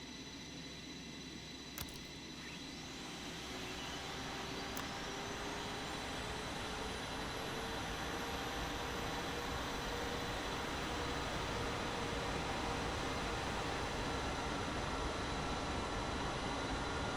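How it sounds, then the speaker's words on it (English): F-4E Phantom right jet engine spooling up from a cartridge start in a flight-simulator cockpit, a steady broadband roar with a rising whine that climbs over about seventeen seconds, two sharp clicks near the start. "Good, now I will start the right engine."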